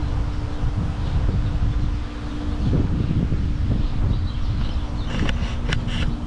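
Steady wind buffets the microphone in a garden with a low rumble and rustling throughout, with a brief faint buzzing near the end.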